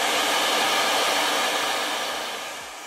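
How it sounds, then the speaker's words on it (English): A hair dryer blows with a steady, loud broadband whoosh that runs continuously, easing slightly softer toward the end. "I put the little pieces in here, shut one of the doors, and I have my hair dryer"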